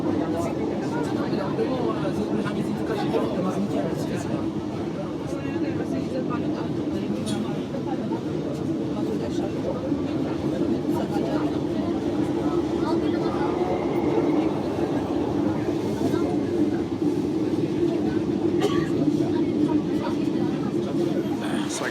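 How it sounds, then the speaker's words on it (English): Onboard an elevated metro train in Addis Ababa, Ethiopia: a steady, loud rumble of the rail car in motion with faint rhythmic clatter, and voices of passengers chattering in the background throughout. "The metro line is pretty modern."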